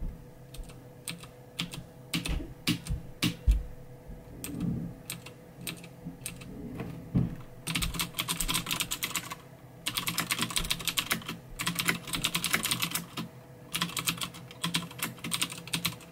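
Loud, sharp clicking of a Das Keyboard 4 Professional mechanical keyboard with blue switches, starting in scattered keystrokes and then building into fast, dense bursts, close up with no talking.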